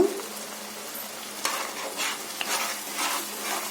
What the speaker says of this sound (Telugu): పావు టీ స్పూన్ పసుపు, వేసుకొని కలుపుకుందాము.